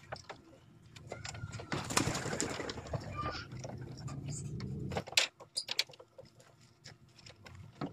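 Young racing pigeons in a loft, soft cooing and scattered calls amid rustling, wing flaps and knocks, with a louder flurry of movement early on, near and moderately faint.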